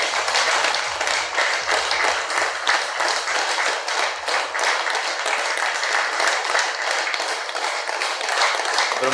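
Audience at a meditation gathering clapping loudly and continuously, a dense, close, sustained burst of applause filling the whole stretch without a break.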